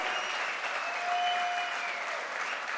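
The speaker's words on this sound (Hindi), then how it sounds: "एक बार जोरदार तालियां होनी चाहिए विनर टीम के लिए भी" An audience at a direct selling success and promotion event applauds for a winning team, a dense continuous burst of clapping at moderate distance.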